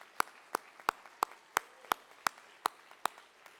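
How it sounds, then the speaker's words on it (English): A lone pair of hands claps at a steady, even pace, about ten sharp claps close by with no crowd around them, following a call at an awards gala for the Shingo Silver Medallion recipients. "One final round of applause for our Shingo Silver Medallion recipients."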